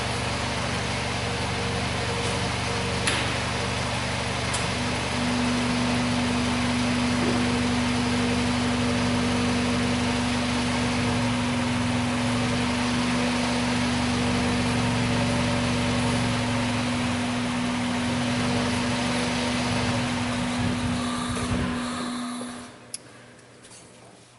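A Toyota engine idles with a steady low drone and a sustained hum, then stalls after brake cleaner is sprayed into it, and the sound cuts out abruptly at the end.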